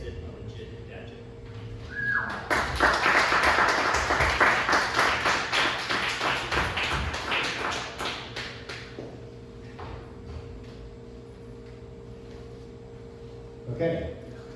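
An audience at a poetry reading breaks into brisk applause that swells, holds for several seconds and then gradually thins out into scattered claps, followed by a brief spoken word.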